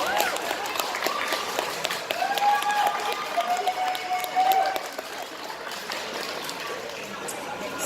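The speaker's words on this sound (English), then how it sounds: "Big round of applause for Bree." Audience applause at a cosplay competition for a contestant dressed as Bloom from Winx Club, a steady wash of clapping and crowd noise for several seconds with some talk mixed in.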